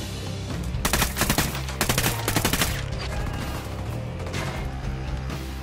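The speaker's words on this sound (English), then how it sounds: "Taking cover from heavy fire" Heavy automatic gunfire in the Ghost Recon Wildlands video game, loud rapid bursts of shots clustered in the first half, then a denser, steadier din of combat and music-like background continuing without speech.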